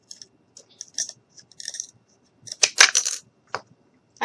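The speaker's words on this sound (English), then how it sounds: "I'm going to go ahead and take my scissors and we're just going to cut that" Scissors snip through a popsicle stick colored black, giving a series of small dry clicks and crunchy cuts, faint and close, with a denser cluster of snips near the end.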